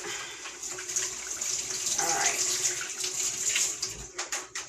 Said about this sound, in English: So let me wash my hands really quick.